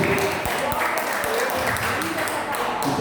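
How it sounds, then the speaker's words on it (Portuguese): A church congregation claps hands to glorify the Lord, steady applause under a preacher's ongoing amplified speech, with several sharper isolated claps standing out. "Vamos bater palma mesmo, para glorificar o Senhor."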